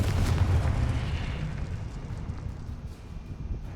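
A Confringo fire spell explosion in Hogwarts Legacy, a heavy low rumbling boom that is loud at the start and slowly fades into a lingering roar.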